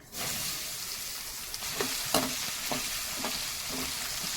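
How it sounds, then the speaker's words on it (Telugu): Battered corn kernels sizzle and crackle as they deep-fry in hot oil in a kadai, a loud steady hiss with sharp pops and occasional stirring clicks close up, no talking. "ఇప్పుడైతే మనం కార్న్ మిక్స్ చేసుకున్నాం కదా, ఆయిల్ అయితే వేసిద్దాం"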